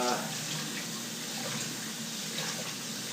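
Hot water runs steadily from a kitchen tap to soak a towel, a constant close splashing rush for the whole stretch.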